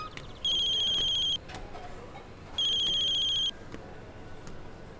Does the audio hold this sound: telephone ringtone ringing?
yes